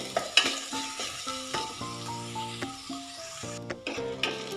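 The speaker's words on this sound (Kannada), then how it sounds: "ನೋಡಿ, ಈರುಳ್ಳಿ ಚೆನ್ನಾಗಿ ಫ್ರೈ ಆಗಿದೆ." Sliced onions and curry leaves fry in oil in a pan for masala dosa filling, with a soft crackling sizzle under irregular scraping and stirring clinks from a spoon, close up and fairly quiet.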